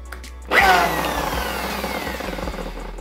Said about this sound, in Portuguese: Aqui eu vou lixando ela e eu comparo o tamanho dela